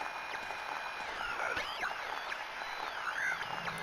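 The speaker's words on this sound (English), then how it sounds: "A broken radio that makes static sounds like this when there's a monster nearby." Broken radio static in Silent Hill 2 warning that a monster is near: a steady, dense hiss of noise with warbling, sweeping tones running through it, moderately loud and without talk.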